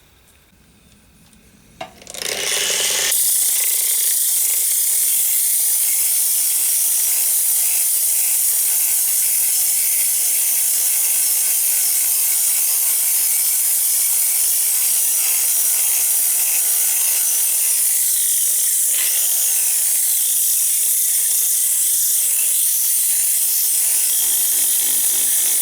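Light-pressure abrasive rubbing to smooth the inside of a cast iron pan, a steady loud broadband scraping hiss that starts after a brief quiet moment and continues without letup.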